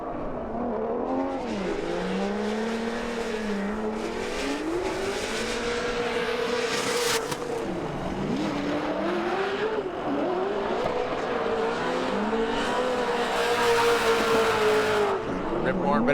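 Odi Bakchis's Formula Drift car engine revving hard on a 2022 championship run, with a continuous wound-up roar that rises and falls, loud and close, alongside tire noise and a commentator talking throughout.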